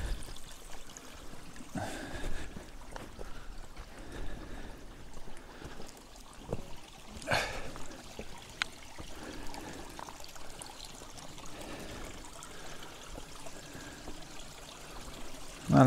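A mountain stream runs along a hiking trail, water trickling and pouring over rocks in a steady, moderately close burble with a few brief splashes and no voices.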